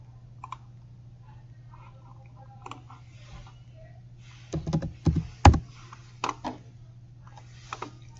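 Several quick, light keystrokes on a computer keyboard, clustered in a short burst near the middle with a few scattered taps before and after, over a low steady hum.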